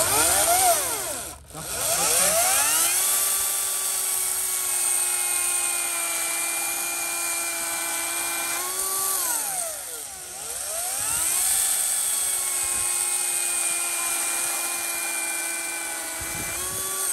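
A Ryobi or AEG cordless brushless chainsaw revs up and runs loudly and steadily at close range with a high whine, briefly dipping in speed twice, with no talk over it.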